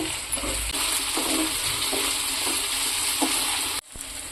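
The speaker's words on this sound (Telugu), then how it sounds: "అలాగే పచ్చిమిర్చి ఒక 2 ముక్కల కింద చేసుకుని ఈ వంకాయలతో పాటు ఫ్రై చేసుకుందాం." Eggplant pieces and chopped green chilies fry in a pan with a continuous bright sizzle and occasional stirring clinks, then the sound cuts off abruptly near the end.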